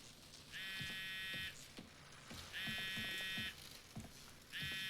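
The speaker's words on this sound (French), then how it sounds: "C'est un téléphone?" A phone buzzes in the Spider-Man video game, three repeated electronic trill bursts of about a second each with short gaps, over low game ambience and faint thuds.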